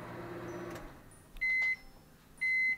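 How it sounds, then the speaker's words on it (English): A kitchen appliance, likely a microwave, gives two loud sustained beeps about a second apart after some rustling kitchen sounds. "I know you're beeping"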